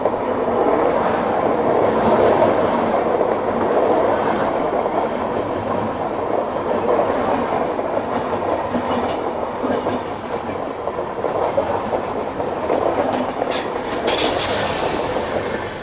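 Kongu Express train pulling away on the Hyderabad to Bangalore line, a steady loud rumble of wagons with wheel squeal and rail clatter running throughout, no voices.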